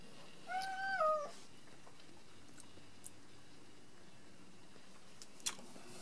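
A cat gives a brief, faint meow of a few rising and falling cries against a quiet indoor background, then a soft click or two.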